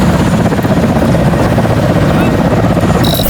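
Helicopters arriving at a landing site for cosmonauts with a search-and-rescue team, a loud, continuous rotor thrum that dominates throughout, with a brief higher whine near the end.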